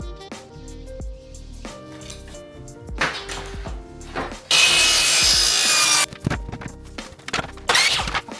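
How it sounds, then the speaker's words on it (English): Wooden crown molding trim is cut in a workshop: scattered knocks and wood handling, short sawing bursts, then a loud continuous cut lasting over a second, followed by more clunks and another brief cut. "I'm heading out to the workshop to cut hopefully my last few trim pieces for the top of the cabinet"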